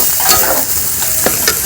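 Water hits a pan of Bengali vegetarian banana-flower curry, giving a loud, steady hiss of sizzling with stirring scrapes woven through, close and without any voices.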